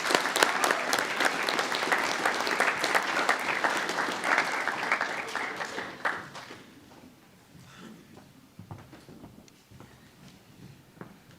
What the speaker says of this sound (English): Can we also please give them a round of applause?